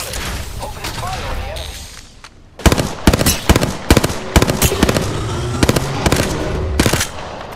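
Bursts of automatic gunfire in an Apex Legends-style video game, rapid cracking volleys repeating in short loud clusters after a quieter stretch of game ambience.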